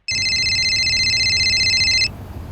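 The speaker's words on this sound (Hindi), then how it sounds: "देखो तो किसका फोन है?" A telephone rings with one long, bright electronic trill lasting about two seconds, then stops, leaving a low background hum.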